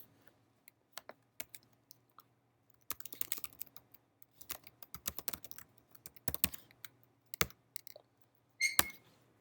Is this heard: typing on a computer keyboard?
yes